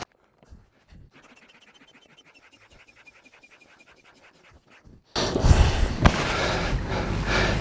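A hand pump inflating a wing boom to 8 psi: a run of quick rhythmic pumping strokes, fairly quiet and close, followed by a louder rushing burst of air near the end.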